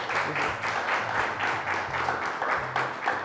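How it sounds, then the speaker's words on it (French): A student audience at a university quiz event applauds steadily and close by, a dense wash of clapping that holds for about three seconds, with a little low background tone beneath it. "Applaudissez pour vous, les amis."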